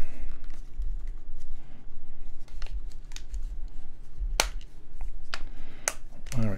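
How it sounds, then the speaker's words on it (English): Plastic phone case snapping into place on a Samsung Galaxy Note 9: a few sharp, close clicks and crisp taps scattered over soft handling rustle, no talking. "So again, you can hear that kind of clipping into place."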